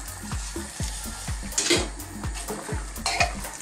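Penne tossed into a pan of bacon and mushroom cream sauce on high heat, a soft sizzle under repeated rhythmic scraping and clinking of a utensil against the pan, close and fairly quiet.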